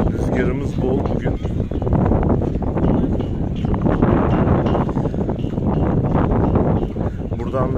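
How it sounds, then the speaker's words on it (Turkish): Strong wind buffeting the microphone in a steady, loud roar on the coast near Çanakkale, Turkey, with a voice speaking over it. "Rüzgarımız bol bugün."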